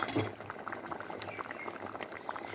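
Mushroom curry with drumstick pods bubbles in a pot, a soft, close, irregular patter of popping bubbles over a low simmering hiss, fairly quiet throughout.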